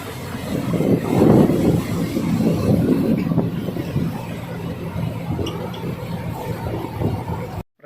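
A train rumbles past nearby, a low rolling roar that swells early and then fades into a steady clatter before cutting off.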